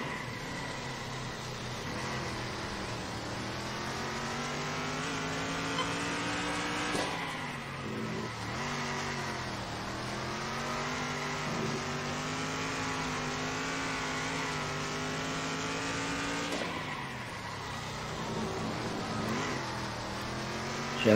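Stock car engine in the racing game Circuit Superstars, droning steadily with rising and falling revs through gear changes, moderately loud and continuous throughout.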